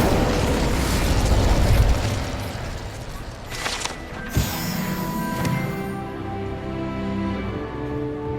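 Incendio fire spell cast in Hogwarts Legacy on PS4, a loud whooshing burst with a sharp pop about midway, followed by a crackling, rumbling tail over steady game music.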